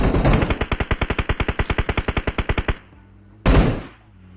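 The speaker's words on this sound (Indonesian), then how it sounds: "Lu nembak kaki ya, Mek." Rapid automatic gunfire in the battle royale game PUBG Mobile, a loud steady burst of about twenty evenly spaced shots, then a short pause and one more heavy blast.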